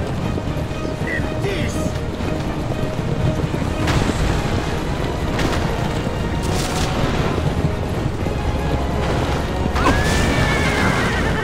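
A horse-drawn carriage rolls along steadily in Assassin's Creed Revelations, with constant wind-like rumble, occasional horse whinnies and a few sharper knocks, while someone talks over it.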